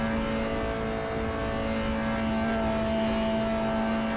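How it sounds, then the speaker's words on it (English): A Mazda MX-5 Cup race car in a racing video game sits at the rev limiter, a steady, buzzing high-rpm engine drone held for several seconds with no talk. "as we sort of hit the rev limiter, we're getting to the high end of the revs"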